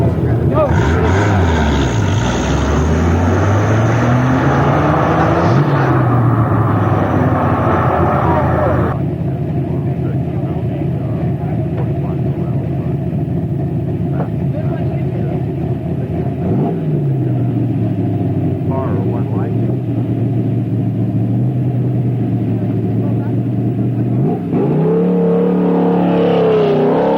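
An Ultima kit race car climbs the Virginia City hill climb course in 1995. Its loud engine roars steadily for the whole stretch, the pitch sweeping up and down through the gears as it drives away, with a renewed rise near the end.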